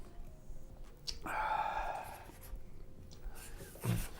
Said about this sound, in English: they're writing down their answers